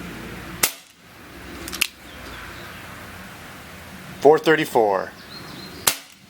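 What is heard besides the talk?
Umarex Smith & Wesson 327 TRR8 CO2 BB revolver shots, single action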